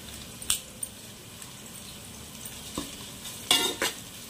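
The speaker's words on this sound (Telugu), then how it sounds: "ఇప్పుడు ఇందులోకి ఎండి మిరపకాయలు ఒక రెండు వేసుకుంటున్నానండి" Two dried red chillies hit hot oil in a pan for a Bengali chicken bhuna masala: a quiet, steady sizzle broken by a few sharp clinks of the spoon against the pan.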